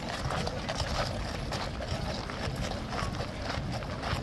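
A police horse's hooves clip-clop steadily on pavement amid a noisy outdoor street wash of wind and traffic, the footfalls blending into the broad background din.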